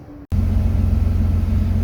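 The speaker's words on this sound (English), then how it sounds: "I've got the heater on and the car is idling. Give it a few revs" An Alfa Romeo 147 GTA engine idles with a steady, deep low rumble that starts after a brief cut and holds close and even, with no voices over it.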